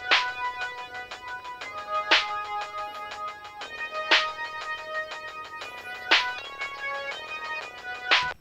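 808 bass and a separate bass track play together with saturation in a Cubase mix, a bright punchy hit landing every two seconds over sustained tonal bass and harmonic layers, steady and upfront with no voices.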